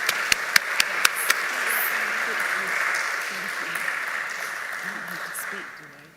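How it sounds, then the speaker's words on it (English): A graduation ceremony audience applauds in a dense, steady wash of clapping, with a few sharp individual claps at the start, fading out toward the end. "Let's give her another round of applause for all of her hard work."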